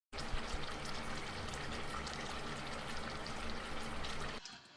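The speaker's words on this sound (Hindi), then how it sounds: "इसमें पानी 2 चम्मच डाल के और मसाला डाल के इसको अच्छी तरह हिला लिया है" Water and spices poured into ground lentils, a steady wet pouring and trickling that runs evenly for about four seconds before stopping abruptly.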